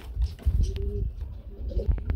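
Rajshahi Giribaz pigeons coo at a pigeon farm, with soft, low repeated calls close by, along with light rustling and faint talk.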